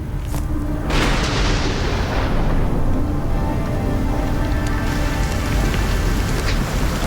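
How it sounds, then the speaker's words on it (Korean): Rain begins falling in a desert, pattering steadily and densely, with a soft rumble at the start and no voices. "마침내 빗방울이 떨어지기 시작하자"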